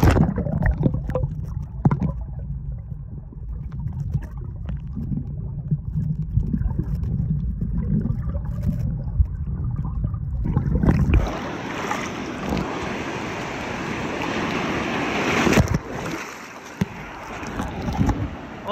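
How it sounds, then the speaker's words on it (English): Rough ocean surf with three to four foot swells: low, rumbling wind and water buffeting at first, then a sudden loud, broad crash and hiss of breaking waves close by, with no talk. "We got kind of rough surf today. 3 or 4 foot swells."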